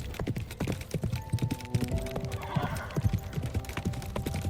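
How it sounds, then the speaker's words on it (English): Horse hooves clip-clop in a rapid, uneven rhythm during a fantasy forest ride, close and fairly loud, with a brief neigh partway through and a soft tonal backdrop. "With a slight tug of the reins, he prompts the horse to leap across a ravine"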